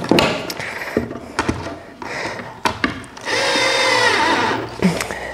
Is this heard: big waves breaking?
no